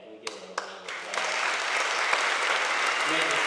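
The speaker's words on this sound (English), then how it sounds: "Can we give a round of applause?" A few scattered claps from an audience quickly build into full, sustained applause that stays steady, with a voice faintly audible at the start.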